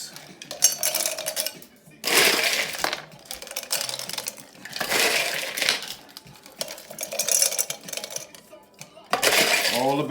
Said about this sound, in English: Add a little ice.